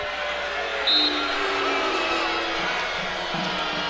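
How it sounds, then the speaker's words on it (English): A basketball crowd at the Ford Center murmurs and rises in a broad, sustained roar over an Evansville-Bradley college game call, with a few whoops rising out of it and a commentator talking over the noise. "Ford Center crowd thought it should be Evansville ball."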